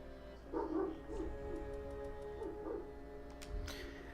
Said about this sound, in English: I'm gonna see what Jaeger's barking at again.